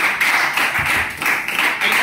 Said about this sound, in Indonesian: Kita beri tepuk tangan dulu untuk dia.